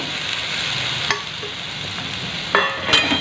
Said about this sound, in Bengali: এই সেদ্ধ ছোলাটা আর কি আমি দিয়ে দিচ্ছি